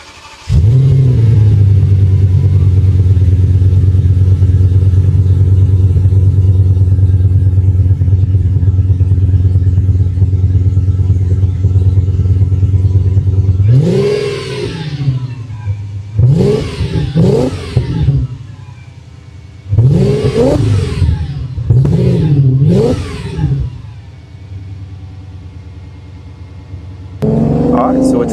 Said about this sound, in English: It's ready for its first cold start with the new Miltek exhaust.